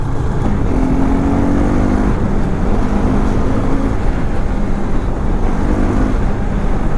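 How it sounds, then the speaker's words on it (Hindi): A brand new KTM 200 motorcycle is out on a ride, its engine droning low and steady beneath a heavy rush of wind across the microphone, with no one talking. "भाई क्या चलता है बाइक"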